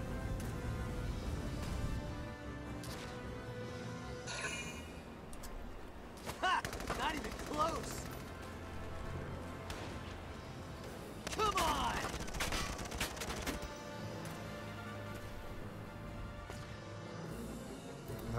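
Gunfire in the tactical war game Valkyria Chronicles 4: bursts of rapid shots and a couple of sharper cracks at mid-distance, fairly faint, set against a steady background of battle noise and music.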